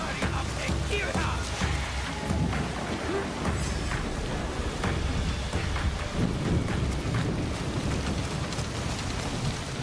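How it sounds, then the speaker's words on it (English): Heavy rain in a game trailer, falling steadily as a dense hiss with low rumbling thunder beneath, loud and continuous throughout. "Look at the rain on her outfit"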